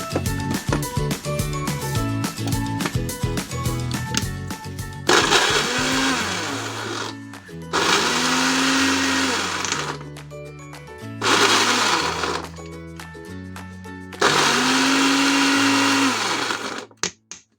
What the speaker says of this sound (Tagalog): i-blender natin yung ingredients natin